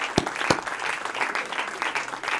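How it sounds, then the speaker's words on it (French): Audience applauding for a school premises technical team at a French-speaking gathering, a steady wash of many hands clapping at moderate distance, with a couple of sharper close claps near the start. "je souhaiterais qu'on applaudisse le groupe technique des locaux scolaires"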